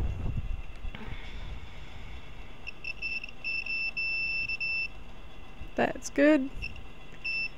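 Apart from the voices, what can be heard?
multimeter continuity check beep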